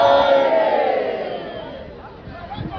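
An Edo election rally crowd in Warake, Owan East, roars and cheers, a loud collective shout that starts strong and slowly fades, with a few fresh yells rising again near the end.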